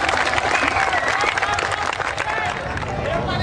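A large crowd at an Indonesian memorial sholawat event for Gus Dur with a preacher claps continuously, a loud, sustained wall of applause with murmuring voices mixed into the mass of hands.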